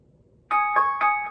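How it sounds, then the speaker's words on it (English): A smart board's timer bell rings alone in a quiet room: three bright, evenly spaced chime strikes about a quarter second apart, each with a ringing tone that lingers. "Let's turn the bell on so you can hear it."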